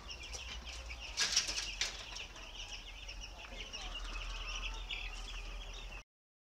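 Broiler chickens dustbathe in the litter of a poultry pen, with bursts of wing flapping and scratching over a low, continuous hum of the house.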